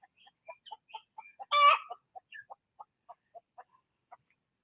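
Soft, short clucks from a brooding mother hen repeat steadily and close by, broken once by a louder, brief squawk.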